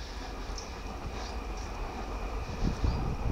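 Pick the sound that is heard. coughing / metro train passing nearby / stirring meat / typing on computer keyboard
metro train passing nearby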